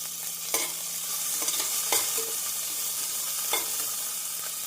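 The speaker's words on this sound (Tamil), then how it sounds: "நாம் கறிவேப்பிலை சேர்த்து 1 நிமிடம் நன்றாக வதக்க வேண்டும்" Chopped onion and curry leaves sautéing in a pan for sambar rice, a steady soft sizzle with a few light stirring scrapes and clinks scattered through, close and fairly quiet, no talking.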